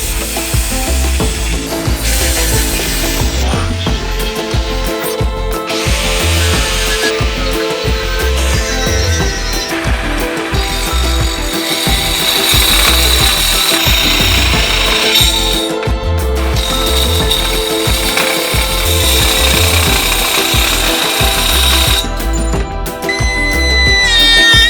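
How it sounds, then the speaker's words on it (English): A power saw cuts a curve into aluminum sheet for a homemade low-profile roof rack. The cut is a loud, continuous, grinding whine that runs for the whole stretch, with brief breaks and shifts in tone. "now I'm gonna go ahead and cut that curve into the aluminum"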